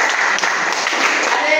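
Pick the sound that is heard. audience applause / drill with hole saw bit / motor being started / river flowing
audience applause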